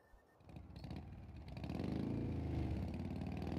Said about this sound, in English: Now the sound is back on the motorcycle